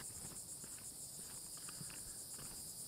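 Insects chirp steadily on a hot, humid day at Carolina Beach State Park, a continuous high-pitched buzzing trill that holds an even level throughout with no talking.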